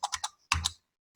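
Quick keystrokes on a computer keyboard, three rapid clicks, a brief pause, then two more, close and fairly quiet with no voice.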